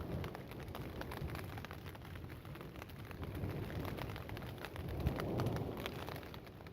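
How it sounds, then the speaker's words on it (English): A thunderstorm with steady rain near a crater rim, a constant hiss of rainfall with a low rumble of thunder swelling toward the end. "just to get away from this thunderstorm"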